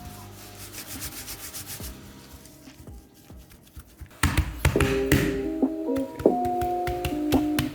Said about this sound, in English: Basically just beat the cookie dough until it's pretty much flat